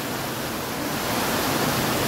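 Water pours down steadily onto bathers at an outdoor bathing spot, a dense, even rushing wash close by and fairly loud with no voices.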